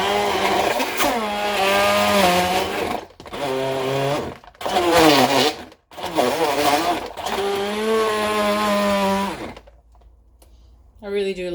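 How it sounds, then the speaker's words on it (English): A Cookworks hand blender whirs through a thick banana smoothie in several loud bursts, its motor pitch wavering as it works, with short pauses between runs and a near-silent stretch at the end. "I really do love my hand blender"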